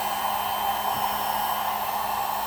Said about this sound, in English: It's going to heat it up until it just starts to make the plastic